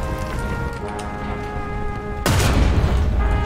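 A tank cannon fires in the War Thunder video game: a low engine hum gives way to a single sudden, loud boom about two-thirds through, followed by a heavy rumbling tail.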